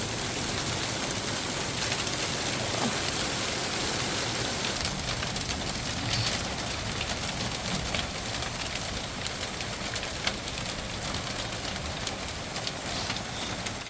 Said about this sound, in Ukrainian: на жаль, зараз почався град